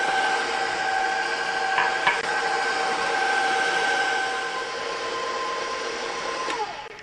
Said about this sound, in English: You might want to turn your mixer off when you put the milk in.